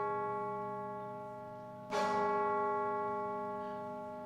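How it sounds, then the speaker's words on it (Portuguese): Carillon bells of São Jorge church chiming the hour, a sustained tonal ring decaying before a second bright bell strike lands midway, its rich overtones swelling and slowly fading. "Carrilhão da Igreja São Jorge."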